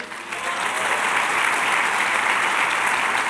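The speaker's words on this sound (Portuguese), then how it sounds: "Dê um aplauso a Ele." A church congregation bursts into dense, steady applause during a sermon, a broad wash of many hands clapping at once, loud and sustained without a break.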